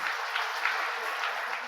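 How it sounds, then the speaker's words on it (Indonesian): Wedding guests applaud during a church ceremony, a short burst of steady, moderately soft clapping from a gathered crowd. "Mari kita tepuk tangan untuk kesediaan mereka sekalian."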